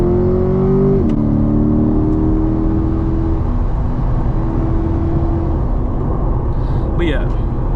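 A fast car accelerates hard on a South Florida road as it pulls ahead of traffic, its engine note climbing and then holding a steady, loud roar close to the microphone.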